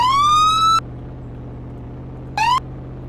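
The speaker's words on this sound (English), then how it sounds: "I have my sirens on" A police car siren in the Roblox game Westover wails in a rising tone for under a second, cuts off, then returns briefly, loud and close over a steady low engine hum.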